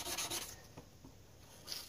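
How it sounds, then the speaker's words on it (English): Sanding an orange knife by hand produces soft, close rubbing strokes, a few rasping passes that start stronger and fade to quiet scraping. "Just a lot of sanding"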